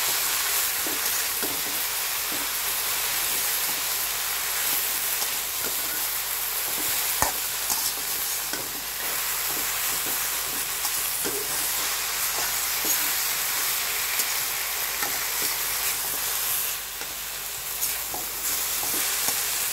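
Food being stirred and mixed in a frying pan, with a continuous loud sizzle and frequent small scrapes and knocks of the utensil throughout.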